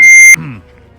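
A loud, steady high-pitched censor beep holds for about a third of a second, then cuts off abruptly into a brief murmur of speech.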